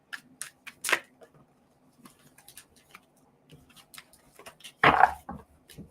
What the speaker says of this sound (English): I'm extra shuffling them because,